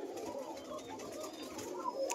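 Pigeons in a pigeon house on a farm keeping Giribaz pigeons give soft, low cooing, faint and continuous against a quiet room background.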